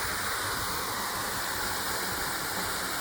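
A summer waterfall roars in a continuous, dense rush of falling water, loud and close, with no voices over it.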